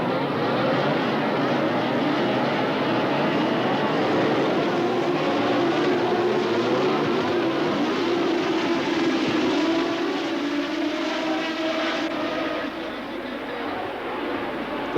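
Grand Prix race car engines rev together on the starting grid, a loud sustained droning roar with rising and falling pitch that thins toward the end.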